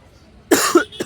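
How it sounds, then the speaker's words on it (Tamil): A few sharp coughs close up, a harsh burst followed by two shorter ones, with no talking. "இந்த வீடியோவில் இருமல் உழப்பல் அம்புட்டு இந்த வீடியோவில் வரப்போகுது"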